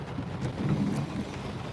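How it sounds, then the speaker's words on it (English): Heavy, steady rain pouring onto a flooded, washed-out dirt road during an all-day downpour, a dense continuous hiss with low rumbling weight, no voices. "it's raining all day like this"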